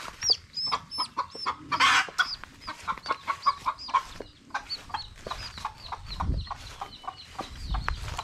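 Chickens and chicks cluck and peep in a busy, overlapping chorus at close range, with a few louder squawks and low thumps or handling noises mixed in.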